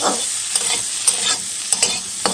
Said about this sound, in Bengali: আলু ভাজাটাকে আগে বসিয়ে দিলাম আলুটা আগে ভেজে নিই